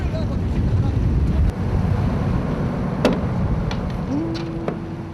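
A small fishing boat pitches on high waves at sea, with a steady roar of wind buffeting the microphone over the wash of water and a brief motor tone near the end.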